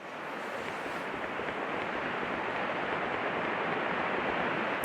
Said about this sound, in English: I can already hear the faint, dull sound of the waterfall